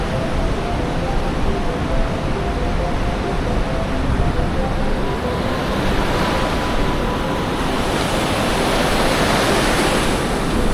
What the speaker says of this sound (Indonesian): jadi pantainya tuh persis di tepi tebing seperti ini ya